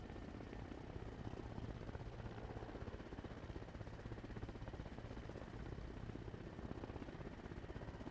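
A helicopter flying in the video game Arma Reforger, its steady rotor thrum and engine drone continuous and even throughout, fairly close and unaccompanied by talk.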